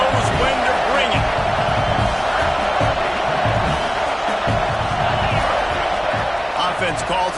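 A packed Michigan football stadium crowd roars in a dense, steady wall of noise with cheers and whoops, while a commentator talks over it.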